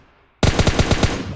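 An M4 rifle fires in PUBG Mobile Lite, a sudden burst of about six rapid, evenly spaced loud shots after brief quiet, with a short tail as the burst ends.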